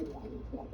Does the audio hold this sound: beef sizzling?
no